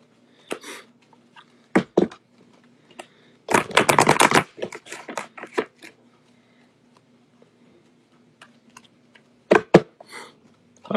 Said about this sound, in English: Get the cards to shuffle.